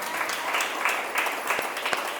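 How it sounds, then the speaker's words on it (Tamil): A crowd applauding, a brisk patter of many hands clapping, moderately loud and continuous for a couple of seconds. "எல்லாரும் பலத்த கரகோஷம் அவங்களுக்கு."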